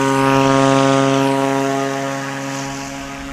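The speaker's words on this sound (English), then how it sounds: "He went for it hard on that first one. Let's see if he can get that 185 airborne sooner." A Cessna 185 STOL aircraft takes off during a STOL competition final in Brainerd, Minnesota. Its propeller engine gives a loud, steady, droning roar that eases off slightly as the plane pulls away.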